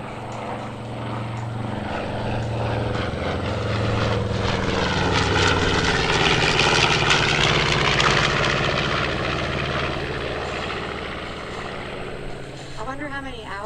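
At an airshow, a B-25 bomber's propeller engines drone loudly as it flies past, the roar swelling to a peak and then fading, with a public-address announcer speaking over it.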